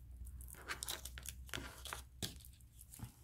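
Paper being cut and handled for a scrapbooking craft project, a series of short crisp tearing and crinkling bursts at close range, irregular and quiet with brief pauses between.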